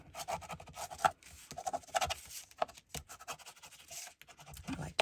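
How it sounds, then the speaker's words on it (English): Tape being burnished firmly onto a card with repeated short rubbing and scratching strokes, close and fairly quiet, with no talking. "I like to burnish it on there real good."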